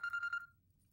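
A telephone rings in a short burst of rapid electronic trills, clear and close, then cuts off into near silence.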